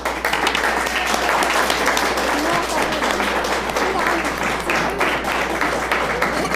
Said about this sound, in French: Et pendant ce temps-là, on vous applaudit bien fort.